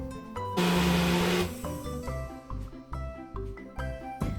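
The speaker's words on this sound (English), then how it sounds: "So I blended that for about 30 seconds" A countertop blender whirs loudly for a short burst as it blends soaked soybeans with water for homemade tofu, followed by softer clunks and knocks of the jug being handled.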